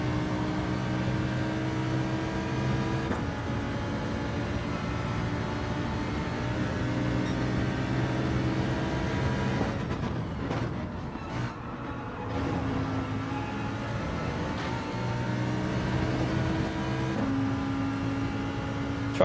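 Race car engine in Gran Turismo 7 at Bathurst, a steady sustained drone with strong harmonic tones that holds for most of the stretch, dips into a rougher mechanical patch midway, then returns to a steady pitch.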